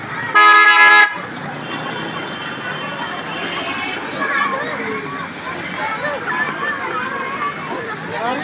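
Car horns honk in a school-time traffic jam on a rainy day in Khyber Pakhtunkhwa, Pakistan: one loud, steady blast opens, then gives way to a dense wash of traffic noise with faint further toots.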